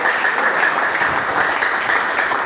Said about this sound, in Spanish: Yo aplaudo con fuerza, hermanos